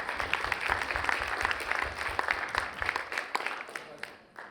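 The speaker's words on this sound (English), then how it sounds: "Round of applause for that." Audience applause at a legaltech conference for solo and small firms, a moderate crowd clapping steadily over some talk and then tapering off near the end.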